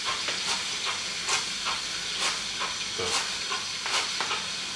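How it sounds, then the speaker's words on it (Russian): Cutlets fry slowly in a pan in a village kitchen in Siberia, giving a steady hiss broken by rhythmic bursts of sizzling and spattering. Someone says a single word quietly. "Пусть на медленно жарится."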